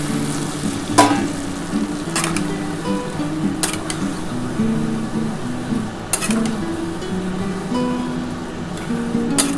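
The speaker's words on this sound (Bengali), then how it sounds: "এবার ভালো করে এটা একটু নাড়াচাড়া করতে হবে" Boiled peas being stirred in a pan with cooked spices for street-style ghugni, a steady close sizzle and frying hiss with scraping stirs and occasional clinks of the spoon, no talk.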